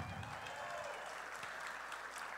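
Audience applause at the 2016 Folk Alliance International Awards Show, a dense, steady clapping from a large crowd that holds evenly throughout without a break.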